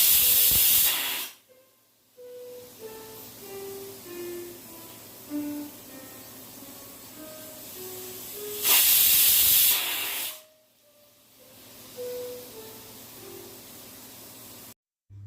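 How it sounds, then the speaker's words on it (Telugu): Mutton bone soup cooking in a pressure cooker, which lets out two loud hissing steam whistles, each lasting about a second, with a quiet stretch of faint tonal sounds between them. "కుక్కర్ మూత పెట్టుకొని 10 నుంచి 15 విజిల్స్ దాకా తెప్పించుకోవాలండి"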